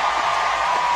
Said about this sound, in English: the crowd comes to its feet to cheer on Cara Webb